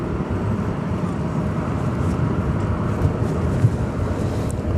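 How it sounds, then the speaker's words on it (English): A United airliner passes at DFW airport, a broad steady roar of jet engine noise holding constant and fairly loud, with faint distant background sounds. "As we watch United flight come through."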